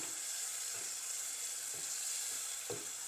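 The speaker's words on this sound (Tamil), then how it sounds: "தயிரை சேர்த்து கொஞ்சம் நல்லா மிக்ஸ் பண்ணி கொஞ்சம் அடுப்பில் அதையும் வதக்கி எடுக்கணும்" A yogurt mixture for prawn biryani sautés on a home stove, giving a steady, faint hiss of frying with a few soft stirring scrapes. It is close but quiet, with no speech.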